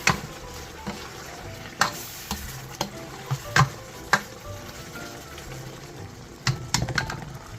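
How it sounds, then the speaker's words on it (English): A spoon stirs dinuguan, a pork blood stew, with bay leaf in a pot, giving a string of sharp, irregular clinks and scrapes over a soft simmer, with no voices. "Mix, mix, mix."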